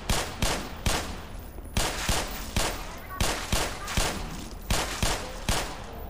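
Gunfire in the video game Black Mesa: a rapid series of sharp, loud shots in short irregular bursts, close and alone with no talk.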